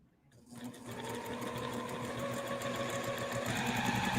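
A sewing machine stitching flying geese quilt blocks starts up from silence and settles into a fast, steady mechanical whir with rapid needle ticking, close and fairly quiet, growing slightly louder as it runs.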